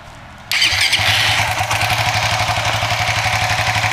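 A Suzuki GSX 150 fuel-injected motorcycle engine cranks over and fires up abruptly, then settles into a loud, close, steady idle with a rhythmic low throb.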